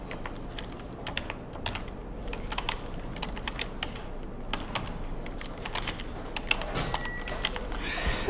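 Rapid clicking keystrokes on a computer keyboard while filling in a form, steady close typing with separate key presses including a tab key.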